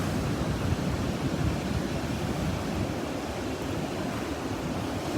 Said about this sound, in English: There are the waves.